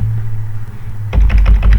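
Rapid computer keyboard typing starts abruptly after a low steady hum, a quick cluster of close, loud key clicks with no talking.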